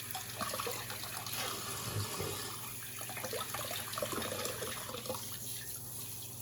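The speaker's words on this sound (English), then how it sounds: "get it wet with warm water, not cold water." Warm tap water runs into a sink in a steady, faint, continuous trickle and splash, with slight fluctuations and no talking.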